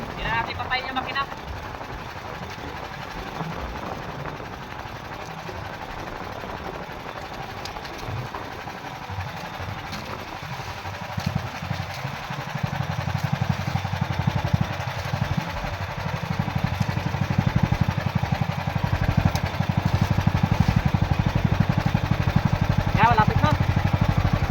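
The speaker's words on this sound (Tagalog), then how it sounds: "Hindi na natin patayin yung makina." A small fishing boat's engine running in strong wind, a low steady putter that grows louder and closer in the second half, with people talking over it throughout.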